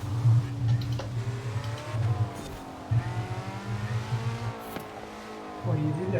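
A car in Forza Horizon 4 revs and shifts through its gears, the exhaust rising and falling in several bursts while someone talks over it and background game audio continues.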